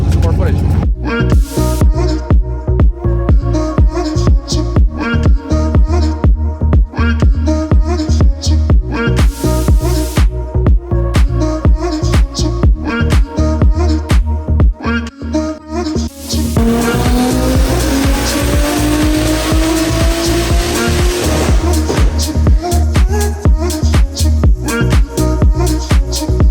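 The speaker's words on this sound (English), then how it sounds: "Hearing plenty of things ripping on the dyno." A loud engine roars on a dyno, climbing steadily in pitch through a long sustained pull, with rattling mechanical noise throughout.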